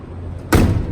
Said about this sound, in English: Door closes really nice.